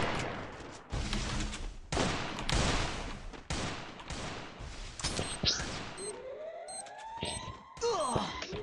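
Gunfire in an online shooter game comes as repeated sustained bursts of rapid shots, loud and close, followed by rising and falling whistling sweeps.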